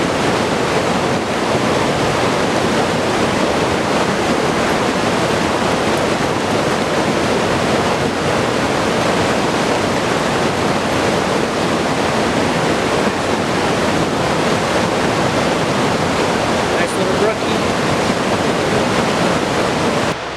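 Steady, dense rush of flowing water in a trout creek outdoors, loud and continuous throughout with no breaks, unaccompanied by voices.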